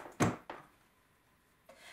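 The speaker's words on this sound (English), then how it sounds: "I'll place down my Teflon sheet and I'll push my drawer back in on my heat" Heat press drawer slid back into place over a Teflon sheet, a single close thunk followed by a softer knock and a faint later click in a quiet room.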